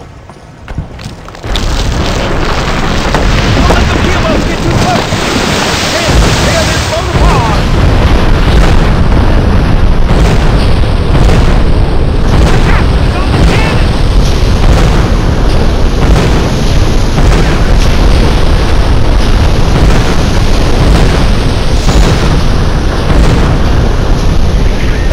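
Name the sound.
keelboat cannon blasting boats in video game Gun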